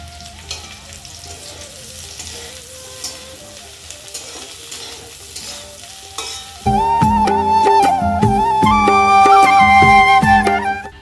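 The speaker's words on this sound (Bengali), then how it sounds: "এখন রান্না করছি ফুলকপি ভাজা আর মাছের মাথা দিয়ে লাউয়ের তরকারি" Cauliflower fries in a pan with a faint, continuous sizzle and occasional stirring, then loud music comes in and drowns it out for the rest of the clip.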